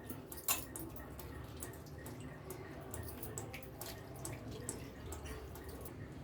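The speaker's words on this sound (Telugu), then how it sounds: "కీమా ముట్టెలండి 2 సార్లు బాగా కడిగి నీళ్ళల్లో గట్టిగా పిండాలా." Water splashes and drips steadily as mutton tripe is washed and squeezed by hand in a vessel for keema curry, with soft sloshing and small squelches up close, without any voices.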